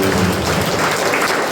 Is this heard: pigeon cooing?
no